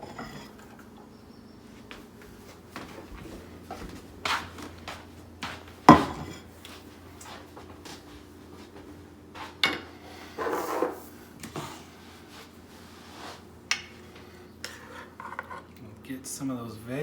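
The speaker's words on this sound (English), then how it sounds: "Let's plate it up." Korean beef stir fry served onto dishes over rice: scattered clinks of utensils against plates and pans, scraping and light clatter spread over time, close and fairly quiet, with occasional soft speech.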